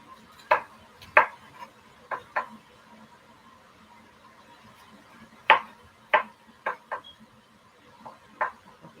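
A knife chops an onion on a board in a home kitchen, giving crisp, close, slightly irregular cuts in small clusters with short pauses between, and no voices.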